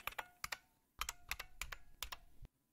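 Password keys tapped on a computer keyboard at a Linux Mint login screen: about eight crisp, close keystrokes in two quick bursts, then silence, with no talking.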